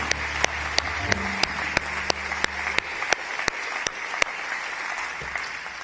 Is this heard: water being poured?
no